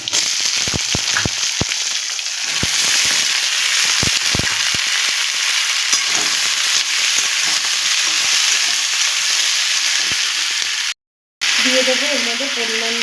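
Vegetables and soybean chunks frying in a hot pan for veg chilli, a loud, continuous close sizzle with sharp crackles and stirring clatter, briefly cutting out near the end.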